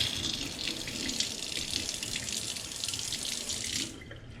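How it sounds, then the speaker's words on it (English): Tap water running into a sink to cool a deep-jigging rig for bluefin tuna, a steady close splashing stream that cuts off abruptly near the end. "We're gonna run it to the sink and cool it."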